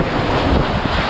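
Catastrophic typhoon winds roaring during Typhoon Rolly in Naga, Bicol, with heavy rain: a loud, dense, continuous blast of wind buffeting the microphone and no speech.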